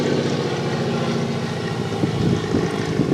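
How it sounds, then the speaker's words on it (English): A biplane from a nearby small airport drones overhead, a steady loud propeller engine rumble that holds throughout and swells slightly toward the end. "And I know you're hearing the plane go over."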